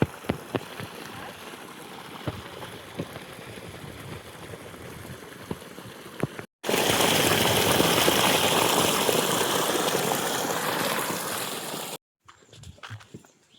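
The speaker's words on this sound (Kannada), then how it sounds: "ನೋಡಿ ಇಲ್ಲಿ ಅಡಿಕೆ ಹೋಟ್ಲಿಗೆ ನೀರು ಬಿಟ್ಟಿದ್ದೀವಿ." Water let into an areca nut plantation, a loud steady gush that sets in abruptly halfway through and rushes on for several seconds before cutting off, after quieter outdoor ambience.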